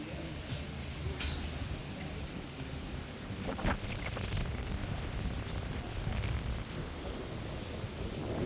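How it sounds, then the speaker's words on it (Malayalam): Heavy rain pours steadily outdoors in Kochi, a dense continuous hiss, with a sharp crack of thunder near the start and a rolling thunder rumble midway through. "പുറത്ത് നല്ല മഴയായിരുന്നു"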